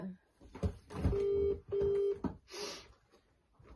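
Two steady telephone keypad tones, each held about half a second, sound close together during a phone-a-friend segment of a podcast quiz, with brief talk and background noise before and after them.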